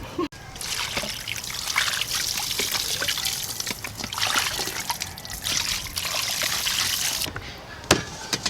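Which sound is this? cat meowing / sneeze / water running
water running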